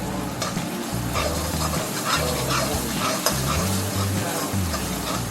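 Steady, dense sizzling of chicken frying in hot oil with ginger and garlic, with scraping and stirring sounds from a utensil against the pan throughout.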